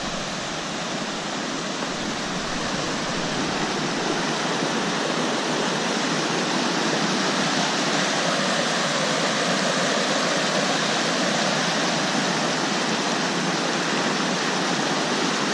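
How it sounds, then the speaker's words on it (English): A mountain creek running strong but shallow at a Colorado Trail crossing below tree line, a steady, full rushing roar that stays close and constant with no talking over it. "here's our creek crossing."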